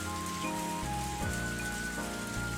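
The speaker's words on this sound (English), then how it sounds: "I can't hear you over the rain." Rain sound effect from the visual novel ONE: Kagayaku Kisetsu e, a steady even patter running throughout beneath soft sustained background music tones.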